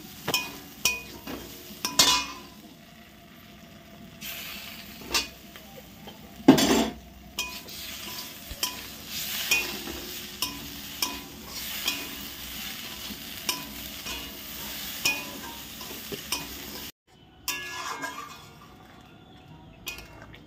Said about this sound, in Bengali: এখন রান্না করছি ভেন্ডির ঝাল।